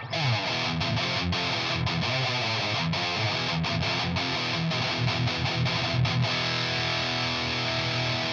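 Electric guitar played through a Giant Metal high-gain distortion pedal set to half gain, thick saturated riffing with chugging, rhythmic chords and sustained notes, loud and close, no talking.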